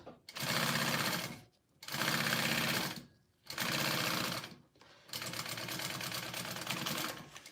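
A sewing machine runs in four bursts of rapid, steady stitching, separated by short pauses, close and fairly loud.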